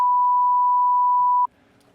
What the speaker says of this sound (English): Bleep everything out